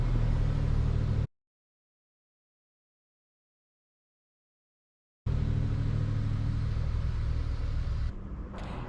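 A car drives through Sequoia National Park, its steady engine rumble and road noise loud and close before dropping out to complete silence for about four seconds and then returning just as strongly.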